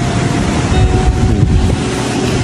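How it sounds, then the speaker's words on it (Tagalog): Strong wind roars and buffets the microphone nonstop on a beach in Boracay, mixed with a low rumble like surf nearby. "ito mahangin dito sa Boracay."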